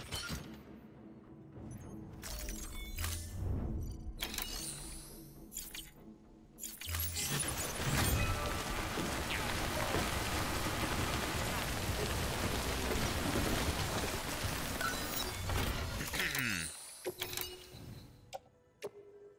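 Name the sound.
rain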